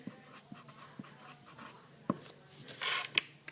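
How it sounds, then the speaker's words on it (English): Pen or pencil writing a name on paper during a first-grade craft lesson, with light scratchy strokes and small taps in an uneven rhythm, close and quiet, ending in a brisker run of scribbling, no speech. "So I'm going to write my name."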